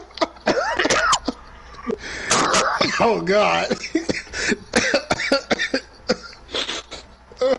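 Harsh coughing fits from two people trade back and forth up close, in repeated rough bursts mixed with throat clearing and loud, animated talk between them.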